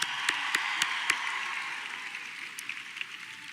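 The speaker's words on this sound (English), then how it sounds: "Let's give them a round of applause" Audience applause at a live event at Watsco in Miami: a steady wash of clapping with a few sharper claps standing out early on, fairly quiet and even, slowly thinning toward the end, with no talking.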